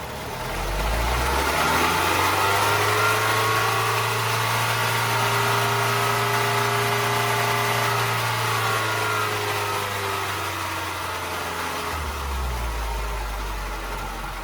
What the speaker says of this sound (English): you could rev your engine and then let it idle for a couple seconds